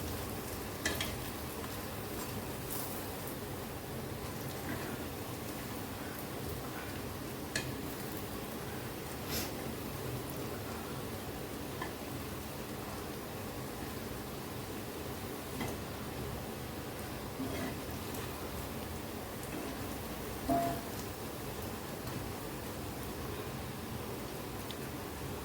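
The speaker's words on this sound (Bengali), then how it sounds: "এখন তেলে ভেজে নেব একটা।" Homemade sweets frying in hot oil, a steady soft sizzle and crackle filling the whole stretch with faint occasional ticks, fairly quiet and without talk.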